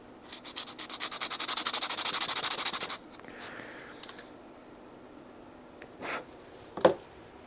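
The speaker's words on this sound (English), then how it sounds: "So I think I'm just going to roughen that up a bit if I can." Sandpaper rubs back and forth over a glued magnet surface in quick, close strokes for about three seconds, followed by quieter scratches and a couple of light knocks.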